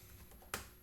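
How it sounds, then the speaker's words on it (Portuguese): A single sharp press of the Enter key on a computer keyboard, one quick close click standing out against a faint, quiet room background. "Aperto Enter"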